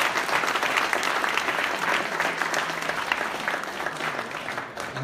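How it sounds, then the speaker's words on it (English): A crowd at a tech lightning-talks event claps loudly and steadily, a thick, sustained burst of applause that tapers slightly at the end. "Big applause."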